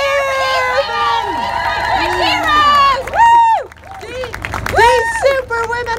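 Loud rally crowd at a Belfast pro-choice event cheering and whooping for speakers, with high shouts, screams and whistles rising in waves over steady applause and babble.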